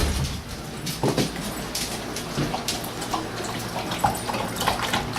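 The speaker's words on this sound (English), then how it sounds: "watching them drink because it's kind of fun." Dogs lapping and drinking water after a walk, with soft, irregular splashing and slurping close by and a steady low background.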